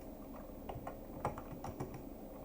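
Code is typed on a computer keyboard in a quick run of soft, close key clicks over a steady background hiss, no voice heard.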